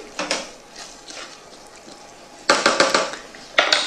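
A spoon stirs pumpkin risotto in a pot, giving bursts of scraping and clinking against the pot, a few scattered strokes early and then denser, louder clusters of scrapes near the end.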